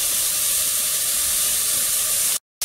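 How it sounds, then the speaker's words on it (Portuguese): Garlic and carrot sauté in a hot pan with a loud, steady hiss and sizzle that runs without a break, then cuts off abruptly near the end. "agora eu vou refogar esse alho com essa cenoura"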